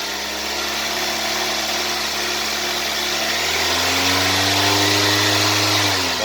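A 2012 Toyota Avanza engine idles steadily up close, then rises into a revving swell partway through, its hum climbing in pitch, with no voices.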